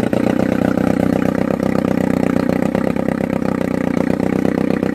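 A Johnson TD20 5hp outboard motor idles steadily and close by, exhaust not fully underwater, a continuous throbbing putter with a slight clatter, loud and unbroken throughout.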